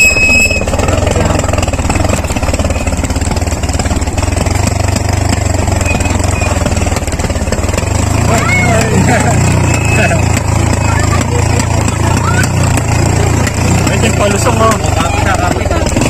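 Motorcycles and a tricycle grind up a steep mountain trail, engines droning and revving steadily close by, rising louder partway through, with people talking over the noise.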